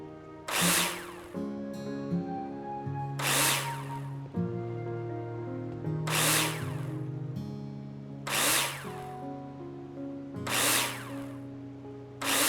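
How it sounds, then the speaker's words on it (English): Power drill in the Builder Simulator video game driving plasterboard nails into a wall, five loud, short whirring bursts at roughly two-second intervals over a steady background music bed. "Take your drill out and screw them in."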